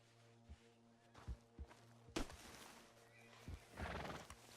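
A horse in Red Dead Redemption 2 whinnies loudly, with clip-clopping hooves and scattered thuds around it over a low steady in-game hum.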